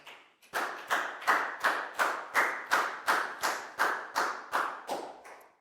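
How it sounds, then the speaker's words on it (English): In a primary school classroom, a group claps together in a rhythmic, evenly spaced pattern of about a dozen sharp unison claps, close and clear with no talking. "Big round of applause for Prel, please, guys."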